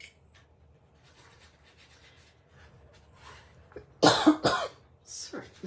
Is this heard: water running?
no